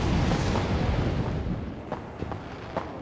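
A tank shell striking its target in the Warno strategy video game, a heavy booming impact that rolls and fades over a few seconds, followed by a few faint distant thuds.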